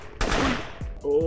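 Gunfire in the isometric tactical shooter game Operation Valor, a pistol fired at a shooting range wall: a few sharp shots in quick succession, close and fairly loud, with a voice speaking briefly near the end.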